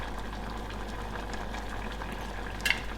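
Black beans warming and softening in a pan, a soft steady bubbling simmer heard close with low background hum and a short clink near the end.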